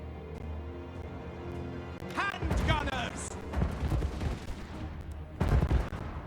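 Gun formation volley fire in the video game Total War: Warhammer 2: a cluster of cracking shots and rumbling impacts, then another loud volley, mixed with battle noise under someone talking.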